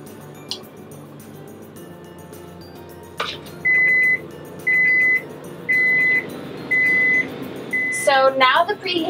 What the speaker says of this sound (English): So now the preheating's done, as you heard from that beep